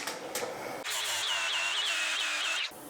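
A nut being tack welded onto threaded rod, a close steady buzzing crackle of the welder lasting nearly two seconds, preceded by softer shop noise.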